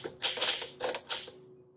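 A 1953 Smith Corona Super manual typewriter clacks through two quick bursts of keystrokes, crisp and close, with a short pause between them and no talk.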